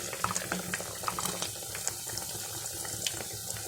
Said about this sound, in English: So please fry it on a low heat on the simmer